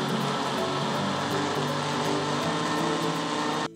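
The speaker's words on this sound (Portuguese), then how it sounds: "Ingredientes no liquidificador, hora de bater dessa praticidade." Countertop blender whirring steadily as it mixes all-liquid ingredients for a creamy rice dish with cheese and ham, a loud continuous motor drone that cuts off sharply at the end.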